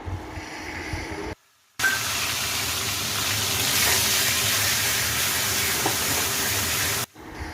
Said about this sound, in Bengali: ফোড়নটা ভালো করে তেলের মধ্যে নাড়াচাড়া করে এর মধ্যে আমি দিয়ে দেবো দুটো মিডিয়াম সাইজের পেঁয়াজ